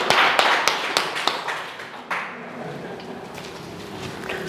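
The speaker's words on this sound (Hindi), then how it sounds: "जोरदार तालियां इनके लिए।" A handful of claps at a school result celebration ring out sharply at first, then thin out and fade into a quiet room murmur.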